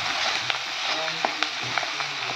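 Spinach sizzling in a pan of hot oil left over from frying fish, with a steady dense frying hiss and occasional louder pops and spatters, close and continuous with no talk.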